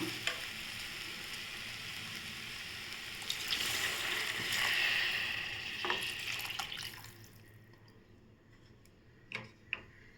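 Tamarind extract is poured into sautéed masala in a pan for bitter gourd gravy, and the sizzle swells into a loud hissing surge before dying down. A few light clicks follow.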